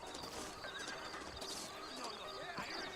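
In the video game Red Dead Redemption, a horse whinnies over steady clip-clopping hooves, with a second neigh partway through and a voice talking alongside.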